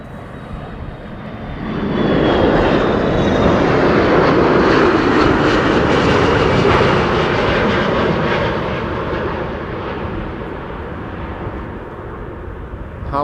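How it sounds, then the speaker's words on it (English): A KLM Airbus A330-300 airliner roars in on landing at Amsterdam Schiphol, its engine noise swelling loud and broad close by, holding steady, then easing as the jet passes and rolls on. "It's an A330-300 arriving after 7 hours and 15 minutes being in the air."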